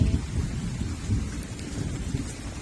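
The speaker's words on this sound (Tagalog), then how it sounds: "Umuulan pa." Rain pours at night over a rural vegetable plot, a dense, close and loud hiss of falling water with a low, rumbling undertone that runs steadily throughout, with no talking.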